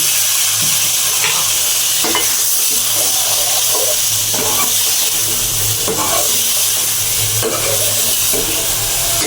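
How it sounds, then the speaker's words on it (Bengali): Chili powder and a splash of water sauté with spices in a pan for a rohu fish bhuna, giving a steady close sizzle and hiss broken by regular scraping stirs about every second or two. "এবার দিয়ে দিচ্ছি দুই চামচ লঙ্কার গুঁড়ো এবার আমি একটু জল দিয়ে কষিয়ে"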